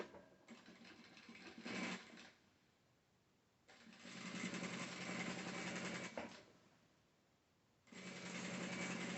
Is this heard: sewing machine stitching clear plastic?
yes